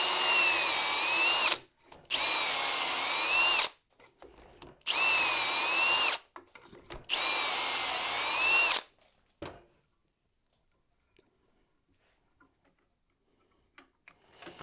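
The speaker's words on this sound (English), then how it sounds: "I'll drill these 2 holes" A power drill runs in four bursts of a few seconds each, whining loudly as it bores into wood, then stops, leaving faint clicks and near silence.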